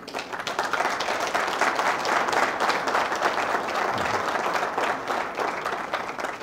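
Sustained applause from an audience filling a hall, a dense, steady wash of many hands clapping at even loudness throughout, with no clear speech above it.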